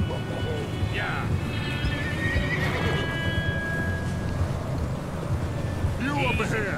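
Horse neighing in Red Dead Redemption 2, with a loud whinny near the start and another near the end over steady outdoor game ambience, hoof clatter and voices talking.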